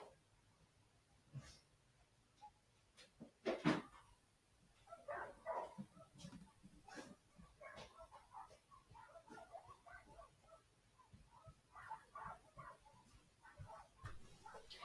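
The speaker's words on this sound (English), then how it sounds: "I have a little bit of dogs out there by my house barking away." Several dogs bark outside a house, muffled and fairly distant, in scattered bursts and yips across the stretch, with faint indoor noise between barks.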